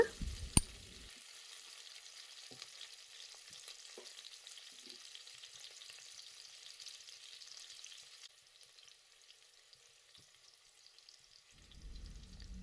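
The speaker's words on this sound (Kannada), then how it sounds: "ಒಂದು ಮೀಡಿಯಮ್ ಸೈಜ್ ಈರುಳ್ಳಿನ ಹಚ್ಕೊಂಡು ಅದನ್ನು ಬಣ್ಣ ಚೇಂಜ್ ಆಗೋಷ್ಟು ಹುರ್ಕೊಳ್ಳೋಣ" Medium onion frying in oil with fennel seeds: a faint, steady, hissing sizzle continues throughout, with one brief clack near the start and a low rumble at the end, with no talking.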